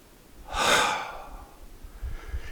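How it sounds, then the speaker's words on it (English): A long, airy breath drawn in and pushed out, followed by a softer second breath a moment later, close and fairly quiet. "Breathing in, breathing out, breathing in."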